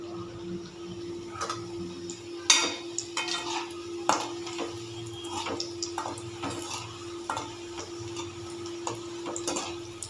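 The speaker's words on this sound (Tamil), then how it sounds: "இப்போ அந்த குட்டி குட்டியாக கட் பண்ணி வச்சதை போட்டு பொரிச்சு எடுத்துக்கலாம்." Small cut pieces of wheat-flour parotta deep-frying in hot oil, a steady bubbling hiss with scattered ticks and pops, plus occasional clinks of a utensil against the pan, close and fairly quiet.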